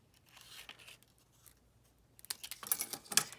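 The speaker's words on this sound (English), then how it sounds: "take my scissors, and then just trim this at an angle" A few crisp scissor snips and paper rustles near the end as card stock is trimmed at an angle for a card, after a quieter stretch of faint handling noise.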